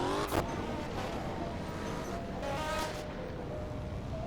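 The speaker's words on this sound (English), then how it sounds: "looks like they're doing races or something over here" Cars race in a Roblox video game with a continuous, fairly faint engine roar and road noise, and a brief sharp burst near the start.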